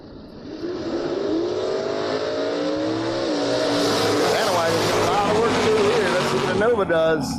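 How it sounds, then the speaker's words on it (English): Drag race cars, a Nova and a panel wagon, launch together down a bracket racing strip: engines rise in a loud, building rev with rapid gear changes, while an announcer talks throughout. "Reese, 635 is the dial on a wheel stand in Nova"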